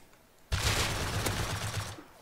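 A burst of suppressed gunfire in a video game: after a half-second hush a dense, rapid rattle of muffled shots runs for about a second and a half, then cuts off sharply.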